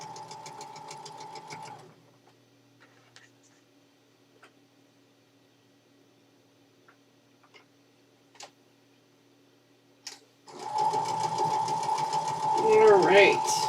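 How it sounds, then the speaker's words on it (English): A sewing machine stitches quilt pieces together in two loud, fast mechanical bursts, one at the start and one at the end, separated by a quiet stretch of faint handling clicks, with no talk. "we're going to sew these pieces right back together."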